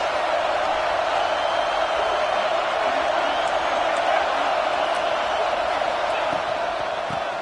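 A large football game crowd roars in a dense, steady wash of cheering and noise, with indistinct voices blending throughout and no clear pauses.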